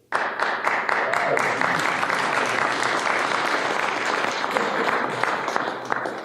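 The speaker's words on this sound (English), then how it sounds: "I was going to say hold the applause, but please." Audience applause at a library groundbreaking ceremony in Branford, a dense, sustained clatter of many hands held at a steady level from start to finish, with voices mixed in.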